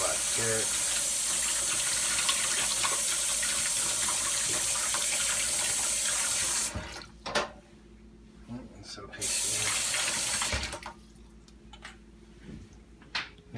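Tap water runs loudly into a sink while juicer parts are rinsed under it, a steady hiss that cuts off briefly twice as the flow is interrupted.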